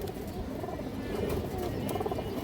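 Mushaldom pigeon of an old line, a big-sized bird, cooing softly and continuously at close range amid a dense murmur of other pigeons, with no talk over it.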